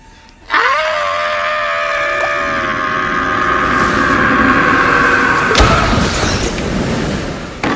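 A film villain's drawn-out scream from Legend of Zorro, one loud sustained wail that starts abruptly and holds for several seconds before a crashing burst near the end.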